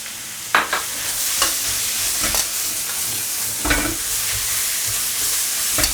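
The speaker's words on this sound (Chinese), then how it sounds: "你可以用个铲子，像我这样慢慢去把菜翻匀" Vegetables with garlic sprouts stir-fried in a hot wok, turned with a spatula: loud continuous sizzling broken by repeated scraping and clanking strokes of the spatula against the pan.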